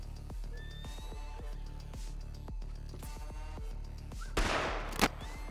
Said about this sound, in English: All right, shoot your gun in the air,